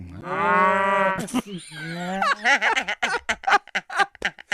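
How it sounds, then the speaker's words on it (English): A loud, drawn-out cow moo played as a sound effect, followed by chopped, stuttering bursts of the same sound repeated rapidly in a glitchy rhythm; no talking. "You've now added a sound effect to your golden holy cow."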